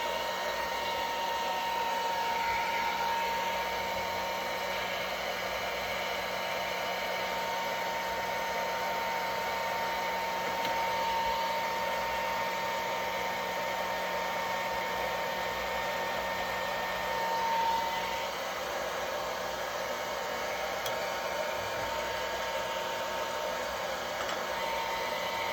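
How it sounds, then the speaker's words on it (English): Heat gun set on low, used to lift old tape from a vintage comic book, blowing with a steady, even whoosh and faint whine at moderate volume for the whole stretch, no talking. "I'm sure you can handle the sound of the heat gun. I'm going to use it on low"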